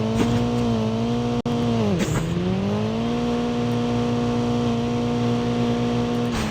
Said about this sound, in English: love driving this car in FPP.